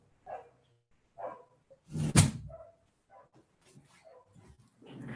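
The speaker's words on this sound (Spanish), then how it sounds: "Disculpe si hay algún perrito por ahí, pero estoy en mi casa" A dog indoors at home gives a loud, sharp bark amid a few softer yips and whines, close by and otherwise in near silence.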